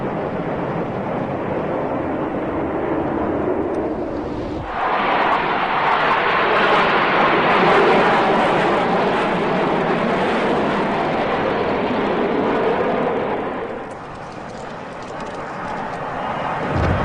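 A jet aircraft crashing at an air display in Japan: loud roaring rush that swells abruptly into a sustained broad blast of noise, then drops back to a lower rumble.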